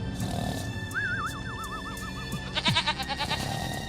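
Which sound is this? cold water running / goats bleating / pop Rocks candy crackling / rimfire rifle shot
goats bleating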